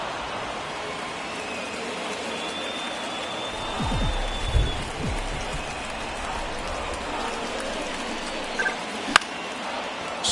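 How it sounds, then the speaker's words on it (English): Steady rain falling on a baseball field in the video game MLB The Show 24, a continuous soft hiss throughout, broken by a brief low rumble in the middle and a sharp click near the end. "the field's not going to be able to hold up if the rain gets any worse than this"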